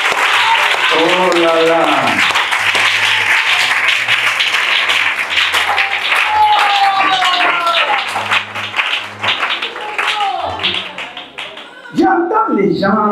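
A religious gathering's audience claps and cheers loudly and continuously while a voice speaks over it. The applause thins toward the end and a few scattered exclamations follow.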